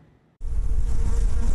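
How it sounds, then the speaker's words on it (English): A loud, dense insect buzz starts abruptly and holds steady, many bees from an aggressive swarm that attacked people droning close by without a break. "These are some of the bees involved in the attack last week."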